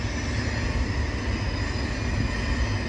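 A freight train rumbles steadily past at Ashland, Nebraska, a dense continuous roar of wheels and cars with no pauses or voices.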